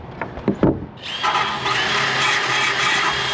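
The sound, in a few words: drill with abrasive cleaning disc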